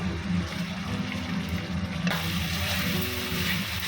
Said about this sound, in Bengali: এই যে ভাজা ভাজা হয়ে গেছে মশলাটা